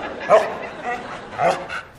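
A voice imitates a dog barking with a quick run of yapping barks, mixed with Turkish speech-like sounds.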